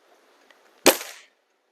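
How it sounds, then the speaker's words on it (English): A single sharp crack from an FWB 124 air rifle firing, near and loud, with a brief ringing tail after near silence. "Just take a look in the gun and take a listen to the sound that it makes when it fires."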